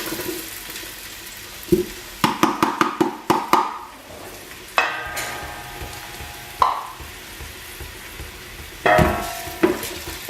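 Half a large onion hits hot olive oil in a pan for Sicilian arancini, giving a close, steady sizzle broken by repeated louder bursts of stirring and scraping, with no talk.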